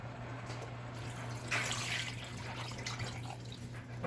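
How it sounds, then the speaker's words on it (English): Water poured into a pot of lentil stew made with canned whole tomatoes, a steady pouring and trickling that swells for a moment midway, over a low constant hum. "Now I'm going to add some water."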